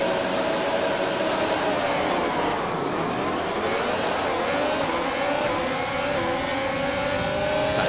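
A Formula 1 race car in F1 2020 screams steadily through the gears, its high engine whine rising and shifting continuously, loud and close throughout.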